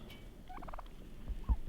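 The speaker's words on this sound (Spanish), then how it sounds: "Los pavos ya quieren entrar a la casa." Turkeys outside a house in the snowy Rocky Mountains of Alberta give one quick rattling gobble, faint and somewhat distant, followed by a few soft thumps.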